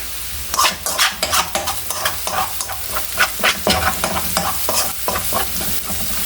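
Garlic fries in butter and olive oil in a pan, a close, crackling sizzle broken by repeated bursts of stirring and scraping in an uneven rhythm, with no talking.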